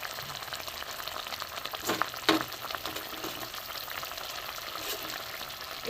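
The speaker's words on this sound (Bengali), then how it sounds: "তেলাপিয়া মাছের তেল ঝাল বন্ধুরা, ঝোল ফুটে গেছে। এবার আমি মাছগুলো দিয়ে দেবো।" Tilapia curry simmers in a pan, giving off a steady bubbling sizzle of hot oil and spiced broth, with a few louder crackling pops partway through.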